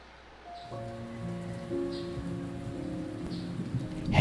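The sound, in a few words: heavy rain in video game Remothered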